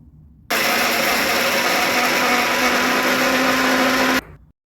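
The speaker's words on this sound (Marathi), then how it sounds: "आता हे मिक्सरला बारीक असे वाटून घ्यायचं" An electric mixer grinder whirs loud and steady for about four seconds, grinding green chillies, garlic cloves, ginger, cumin and ajwain, then cuts off and spins down.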